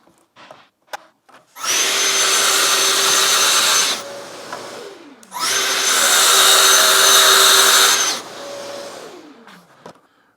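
A power saw cuts a board for a bathroom vanity build in two loud, sustained whining runs of about two to three seconds each. Each run ends with the motor winding down before the next one starts.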